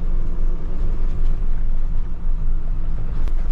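The engine of a tow truck crawls slowly in 4x4 as a steady, loud, low rumble that holds at an even level throughout, heard close.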